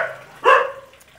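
A dog gives a single loud, close bark on a rooftop while its owner waits to set out food, followed by a fainter short yip; steady background noise runs throughout.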